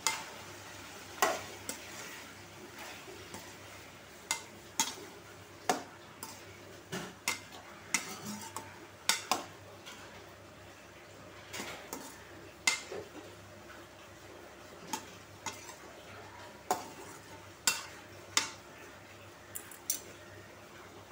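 A spoon stirs tamarind, salt and turmeric in a cooking pot, making scattered scraping strokes and metallic clinks at irregular intervals over a faint, continuous simmering sizzle. The sounds are fairly quiet and close.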